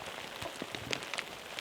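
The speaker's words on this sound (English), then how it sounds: "Rain came a little bit early," Steady rain mixed with some sleet on an early morning at a school outdoor-education send-off, a dense, even patter of drops hitting the surface with no voices.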